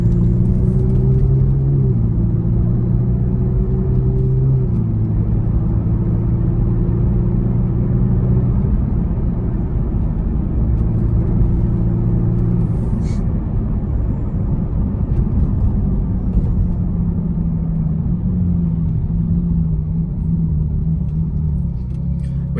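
A car drives along normally with a steady, close engine rumble, its low drone shifting pitch a few times as it runs on without interruption and without voices.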